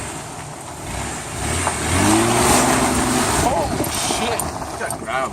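A car on winter tires accelerates in four-wheel drive, its engine surging and revving close by, while people exclaim excitedly over the noise.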